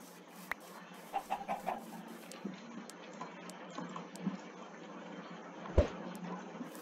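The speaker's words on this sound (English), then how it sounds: "Hey, chicken." Chicken clucking in the Minecraft video game: a quick run of soft, short clucks early on, then scattered faint game sounds over a steady low background hum, with no talk.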